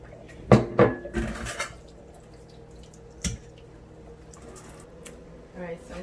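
A pot of cooked beet and rice noodles is tipped to drain, with two sharp metallic clanks and a rush of pouring water at the start, then faint drips and a later clink.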